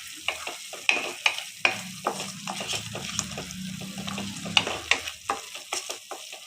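Onion paste fries with rock salt and turmeric for chicken curry, a soft sizzle under repeated sharp scrapes and clacks of a spoon stirring the pan, close up.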